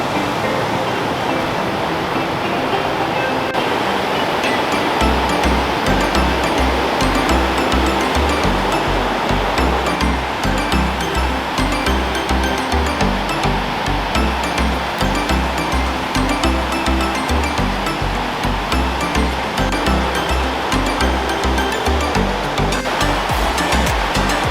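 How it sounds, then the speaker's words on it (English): A waterfall near Bend, Oregon pours with a loud, continuous roar of rushing water that fills the scene close by, steady from start to finish with no voices. "So this is a little bit better of a waterfall."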